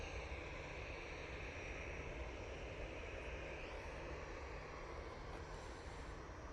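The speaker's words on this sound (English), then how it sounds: "next in, we've got the 787-8 Dreamliner coming in from Glasgow." A Boeing 787-8 Dreamliner jet arrives at Manchester from Glasgow, heard as a faint, distant, even engine drone with a soft hiss that stays constant throughout, no voices present.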